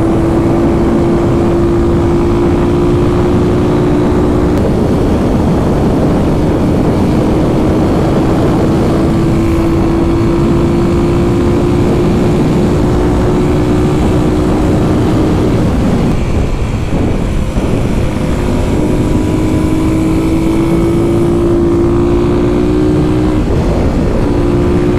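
A 2021 Kawasaki KLX300SM supermoto motorcycle rides a twisty road, its single-cylinder engine droning steadily with a wavering pitch that rises and falls through the bends, joined by loud, continuous wind rush throughout.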